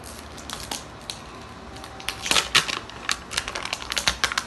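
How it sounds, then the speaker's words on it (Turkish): Zipper on the outer layer of an L.O.L. Surprise toy package being opened, a run of crinkly rasping bursts growing louder and busier toward the end, close up with no talking. "Şimdi şu fermuarlı kısmından ilk katmanını açıyorum."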